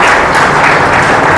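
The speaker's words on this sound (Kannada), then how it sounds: "ಒಂದ್ಸಲಿ ಜೋರಾಗಿ ಚಪ್ಪಾಳೆ ಹಾಕೋಣ ಅವರಿಗೆಲ್ಲ" Loud, dense applause from a gathered audience at a spiritual meal event, many hands clapping continuously and close, with no talk.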